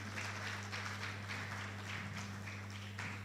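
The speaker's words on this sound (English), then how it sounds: "A round of applause for her." An audience at an engineering olympiad launch giving a round of applause, soft diffuse clapping under a constant low electrical hum, modest and even in level.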